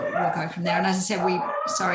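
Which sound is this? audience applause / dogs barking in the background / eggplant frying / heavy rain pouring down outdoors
dogs barking in the background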